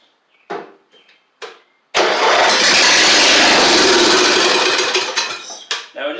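Briggs and Stratton engine on a Troy Bilt Pony mower, heard as two short cranking bursts and then a loud catch into steady, close-range running for about three seconds before it sputters and fades.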